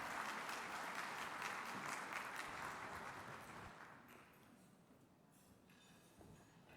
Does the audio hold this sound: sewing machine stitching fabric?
no